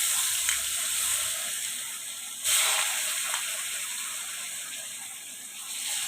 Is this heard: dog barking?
no